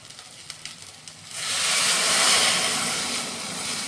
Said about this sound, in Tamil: இப்போ தேவையான அளவு தண்ணி விட்டு கொதிக்க விடலாம்.